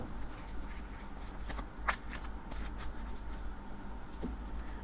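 Tarot cards being handled and shuffled at close range, with soft papery riffles and light flicks scattered over a quiet background.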